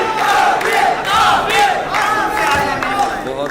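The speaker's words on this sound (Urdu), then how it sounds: "بھرپور تالیوں میں تشریف لاتے ہیں جناب تہذیب حافظ." A mushaira crowd in Dubai greets the poet Tehzeeb Hafi with loud, sustained applause mixed with cheering and shouts, a dense roar filling the room with a few voices rising above it.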